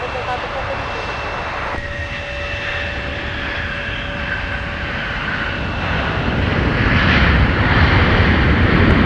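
A Boeing 757 jet at Minneapolis–Saint Paul airport in winter gives a steady engine whine and rumble that swells louder toward the end, under radio chatter.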